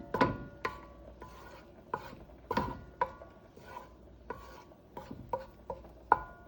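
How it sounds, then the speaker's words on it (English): A spoon knocks and scrapes around a pot as browning ingredients for Jamaican cow foot are stirred, giving a dozen or so irregular taps and scrapes over a low, steady simmer. "Alright, so I'm going to stir this because one side"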